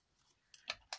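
Scissors snip through folded paper for a flipbook: a few quiet, crisp cuts in the second half, with near silence before them.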